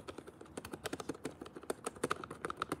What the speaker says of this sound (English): This keyboard sounds like THOCK-y.